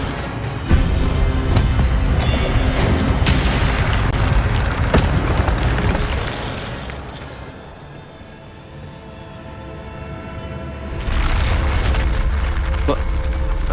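In the video game Hogwarts Legacy, the Incendio fire spell goes off as a loud, booming fiery burst with a rushing roar that fades, then swells back up near the end.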